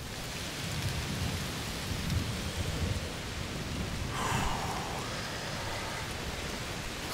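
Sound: thunderstorm with rain in a video game

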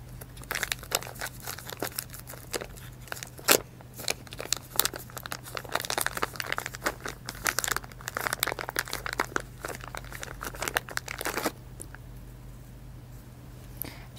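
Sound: handling crinkly blue VCI anti-rust bag

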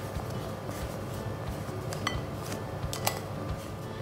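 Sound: mixing flour, sugar, baking powder and instant coffee in a bowl

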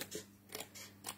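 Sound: scissors cutting out paper card pieces

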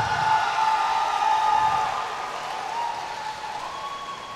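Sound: audience applause at a kickboxing event

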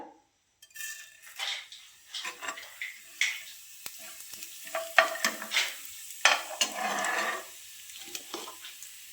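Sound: cumin seeds sizzling in hot mustard oil

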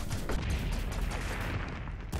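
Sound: gunshots from the video game Owlboy

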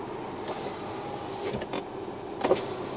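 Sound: car window being opened

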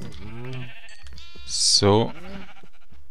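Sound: sheep bleating in the video game Minecraft

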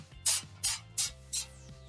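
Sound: kitchen cooking spray sprayed onto foil

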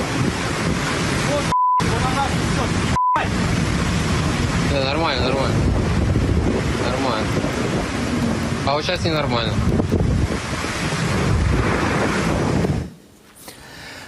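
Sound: stormy sea, waves and wind

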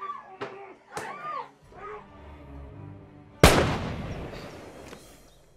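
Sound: gunfire in a film

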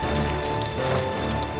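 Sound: horses' hooves clip-clopping as an army marches

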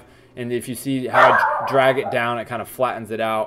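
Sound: dogs barking

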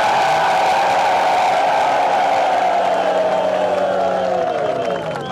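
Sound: crowd applause

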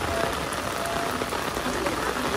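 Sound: heavy rain falling

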